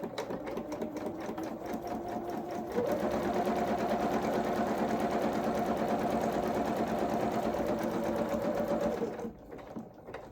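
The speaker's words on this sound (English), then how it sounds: "we're going to zigzag this edge down" A sewing machine runs a zigzag stitch along a fabric edge for a mechanic's coverall outfit, a close, steady mechanical whir lasting several seconds before it slows and stops, with no talking.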